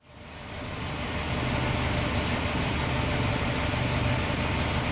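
A 1995 Suzuki Escudo engine idling: a steady, even rumble that starts quickly and holds at a constant level, close up and alone without talk.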